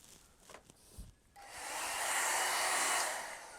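A hair dryer switches on partway through to dry a watercolor painting, a loud steady rushing blow that holds to the end after a few quiet handling sounds.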